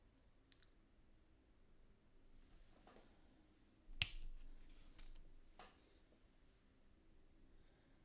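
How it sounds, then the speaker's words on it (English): Sandbag detail being trimmed off a model Afrika Korps tank with a hobby cutter, a few sharp, quiet snips and clicks, one louder cut followed by smaller scraping taps in a quiet room. "So I could trim some of the sandbags off."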